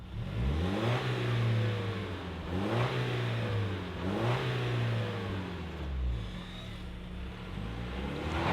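A 2025 Toyota Tacoma SR5 4x4 with a turbocharged four-cylinder engine revs repeatedly, each rise and fall of engine pitch clear and close, with a steady idle running between the blips.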